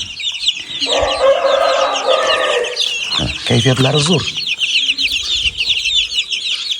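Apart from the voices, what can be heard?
chicks clucking in a yard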